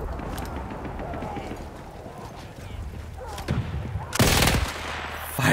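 Rapid automatic fire from a double-barrelled SMG in Battlefield 1 during a wartime battle, with bursts of shots over background combat noise and a sharp loud volley near the end.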